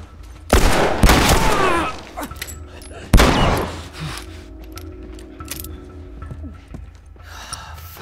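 Two loud shotgun blasts ring out in The Last of Us, each a sharp crack with a short rumbling tail, a few seconds apart, followed by quieter background game noise.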